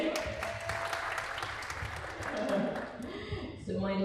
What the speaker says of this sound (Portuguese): Vamos bater uma salva de palmas para Caio Sérgio.